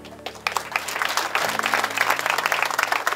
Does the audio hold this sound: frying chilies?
no